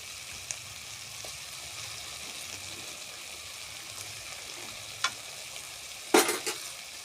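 Paneer masala being fried in a pan, a soft steady sizzle with a few isolated scrapes and a louder clatter near the end.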